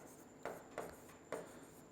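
Chalk writing on a classroom board during a physics lesson on convex lenses, three short scratchy strokes spaced about half a second apart, close and faint, with no talking.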